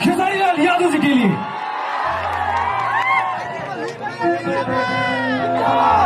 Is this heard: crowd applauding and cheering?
yes